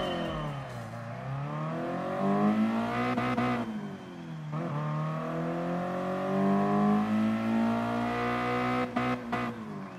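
Car engine in Gran Turismo Sport, heard alone, revs steadily then drops and climbs in pitch as gears are shifted down under braking, with quick blips between shifts.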